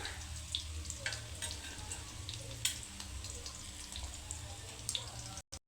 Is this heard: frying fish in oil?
yes